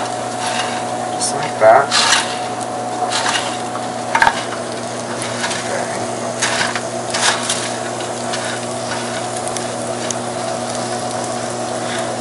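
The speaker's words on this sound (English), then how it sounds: "you're just gonna kind of toss it all together until it's evenly distributed" Thanksgiving stuffing ingredients tossed together in a pan with a utensil, making a steady soft scraping and sizzling rustle with a few louder clatters, while a person talks briefly over it.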